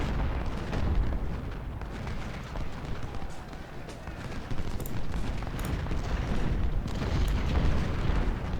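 Cannon fire and explosions in the Civil War strategy game Ultimate General: Civil War during the Siege of Suffolk, a dense continuous rumble of booms and distant blasts filling the whole stretch at steady loudness.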